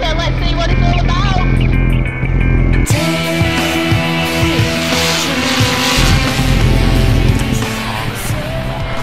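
A loud diesel engine on an ExplorerAero Ecoflyer roars continuously at close range, its tone shifting partway through as it runs up, with a harsh mechanical drone throughout.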